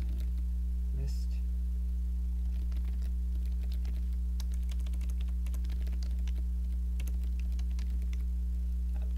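A command typed on a computer keyboard, with a quick run of light clicking keystrokes under a loud steady electrical hum.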